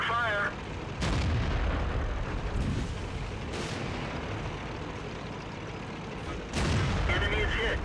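A WZ132 tank gun fires in World of Tanks, several sharp heavy booms spaced a few seconds apart over engine rumble, with game voice alerts mixed in.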